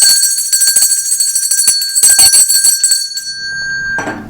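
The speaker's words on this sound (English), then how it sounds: "see my bell" A bell rings loudly and close during a podcast recording, struck repeatedly in quick succession so its bright metallic tone shimmers continuously for about three seconds before fading, with no talking over it.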